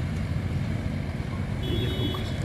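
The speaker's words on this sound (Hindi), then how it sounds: "यह ट्रैक्टर। बहुत बढ़िया है महिंद्रा का।" A Mahindra 395 DI Turbo tractor works a wet paddy field, its engine a steady, loud, low rumble that holds throughout without a break, heard alone with no talking.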